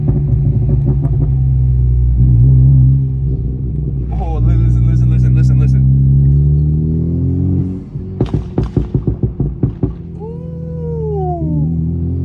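A tuned Honda Civic Type R FL5 with a Hondata Stage 2 tune pulls hard in Type R mode: a steady engine drone that climbs, then a sharp crackling burst at a shift and a fresh climb, with excited voices over it.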